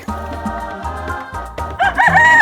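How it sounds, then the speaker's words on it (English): A rooster crows loudly near the end, a short bright cock-a-doodle-doo rising out of a quieter rhythmic background that fills the first part. "rooster,"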